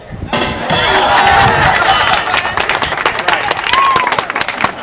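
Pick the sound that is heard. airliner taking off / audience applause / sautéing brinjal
audience applause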